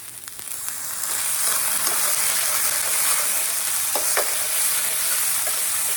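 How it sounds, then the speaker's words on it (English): Minced garlic drops into a hot pan for shakshuka and breaks into a loud, even sizzle that swells after the first second and holds steady, with a few faint clicks, no talking. "I'm gonna add about a teaspoon of this minced garlic."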